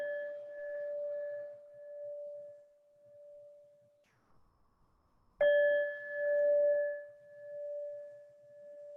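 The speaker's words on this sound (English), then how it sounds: "You'll hear the bells." Two clear meditation bell strikes, each ringing out into a long, pure, slowly fading tone, with a brief near-silence between them; quiet and calm.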